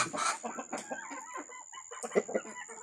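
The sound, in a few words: native and layer chickens clucking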